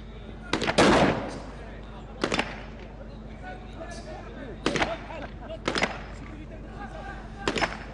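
Submachine gun and shotgun fire at a police special forces shooting competition, heard as a few sharp separate reports at irregular intervals, the first loudest and nearest, over a steady background hum.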